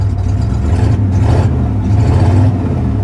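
A rough-running Ford Ranger with a 302 5.0 V8 and its catalytic converters cut off revs up at an auction yard, its deep, throaty exhaust rumbling loud and close, rising and settling in uneven pulls.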